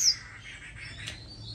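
An oriental magpie-robin, a captive bird being hand-raised, sings a continuous run of fairly faint, high chirps and warbles, with one brighter note standing out near the end.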